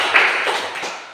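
A Grade 4 class claps together to celebrate full attendance, a short burst of dense, overlapping hand claps in a classroom, fairly loud and with no talking over it.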